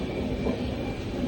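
Passenger train running shortly after departure, heard from inside as a steady, loud rumble of wheels and carriage noise that stays even throughout, with no talking.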